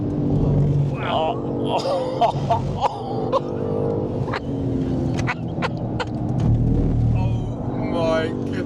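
A BMW M2 CS driven hard and sideways at around 100 mph through Maggotts and Becketts at Silverstone: a loud, steady engine drone rumbles continuously under excited talk from people in the car.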